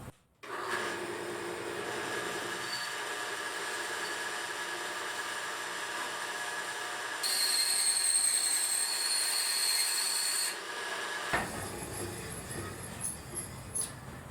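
A bandsaw with a wax-lubricated blade cuts aluminum for a telescope mirror cell, a steady whining hum with a higher, louder stretch while the blade bites the metal, then a quieter run-down.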